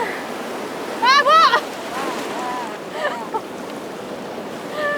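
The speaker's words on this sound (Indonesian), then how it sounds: "karakter ombak di Pantai Jojokan ini besar sekali, menabrak batu langsung mengempas kita" Large surf roars continuously, waves crashing on rocks at Jojokan Beach, while people talk over it, with a steady wash of waves throughout.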